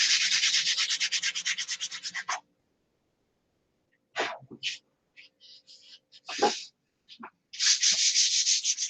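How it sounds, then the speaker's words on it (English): Wood being sanded by hand, with a long run of rhythmic gritty rasping strokes, then a pause, scattered short scrapes and breaths, then the steady back-and-forth strokes resuming, close and clear. "Put it on, sand it off."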